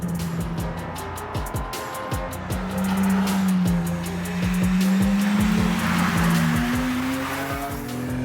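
A Bentley GT Speed with a 5.5-litre, 470-horsepower V12 and manual gearbox drives along, its engine note a steady, rising drone that climbs smoothly in pitch through the clip, loud and close with tyre and road noise underneath.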